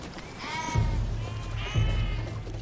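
Sheep bleating in the Patagonian grasslands: two loud, drawn-out, wavering bleats from close by, one after the other.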